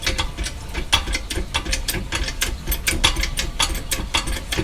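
A jack raising a car to compress its suspension during shock absorber replacement, giving off a close, repetitive ratcheting clatter of quick metallic clicks in steady rhythm.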